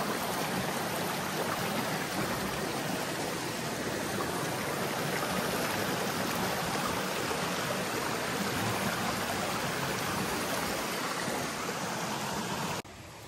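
A stream in a Hong Kong village camping and BBQ area flows steadily, a dense continuous rushing and burbling of water that stays loud and even throughout with no voices.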